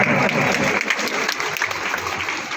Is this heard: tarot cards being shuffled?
no